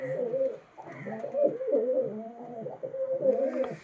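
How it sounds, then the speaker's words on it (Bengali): A male Madras pigeon cooing close up in repeated rolling, throaty phrases with brief dips, alone without talk. "এই যে ম্যাড্রাস পয়রা, ঠোঁটটাই দেখতে পাচ্ছেন, পাটা দেখতে পাচ্ছেন, নর পায়রা।"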